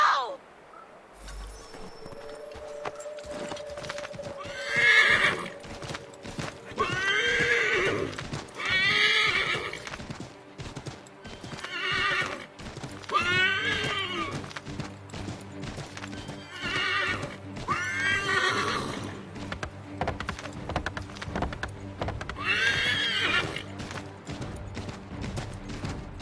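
A horse in Assassin's Creed III Remastered gallops with rapid clip-clopping hooves and gives several loud, drawn-out neighs spaced through the scene, alongside game voices and ambient sound.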